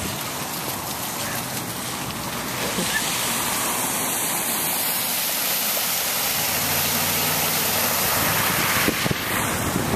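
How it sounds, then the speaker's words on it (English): Flash flood water rushing down a street in heavy rain, a loud, continuous broadband roar of flowing water and downpour that holds steady throughout with no voices. "Little flash flood, no big deal."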